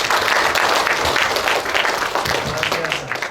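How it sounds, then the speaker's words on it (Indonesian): A church congregation applauds at a thanksgiving Mass for a 70th birthday, with dense, steady clapping filling the room throughout and voices mixed in underneath. "Tepuk tangan dulu."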